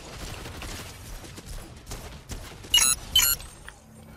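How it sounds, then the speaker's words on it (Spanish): Video game gunfire crackles in two short, sharp bursts near the end, standing out above a low, busy background of game noise. "Oigo más disparos"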